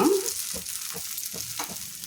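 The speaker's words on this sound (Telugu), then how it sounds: "ఇప్పుడు మళ్ళీ ఆయిల్ వేసుకుంటున్నానండి పైన" Oil sizzles steadily on a frying Rayalaseema karam dosa, a continuous close hiss with soft periodic scraping or stirring bursts and no talking.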